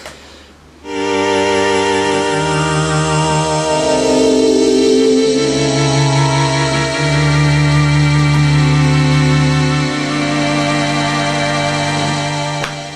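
A lush, sustained synth string pad swells in with slow chord changes, warm and shimmering, holding steady and loud throughout.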